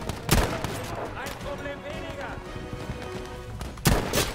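Two loud, sharp gunshots from a sniper rifle in the video game Battlefield V, several seconds apart, with a low game rumble and faint background sounds between them.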